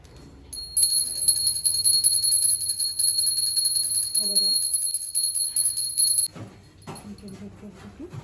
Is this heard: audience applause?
no